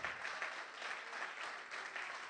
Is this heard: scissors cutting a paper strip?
no